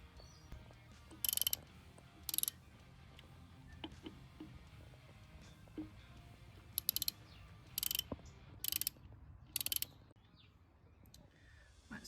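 Torx T20 bolts being unscrewed from a Harley-Davidson during a crash bar install, with short bursts of ratcheting clicks and small metallic ticks scattered across a quiet garage background, close and moderately loud.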